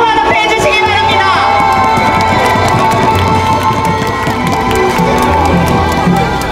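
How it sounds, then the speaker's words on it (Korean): At a South Korean presidential campaign rally, a large crowd claps and cheers loudly and continuously, with shouts and an amplified voice mixed into the dense roar. "큰 박수로 환호해 주시기 바랍니다"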